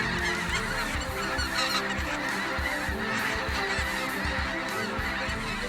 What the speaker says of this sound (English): The geese coming in so quickly in such great numbers, diving toward our field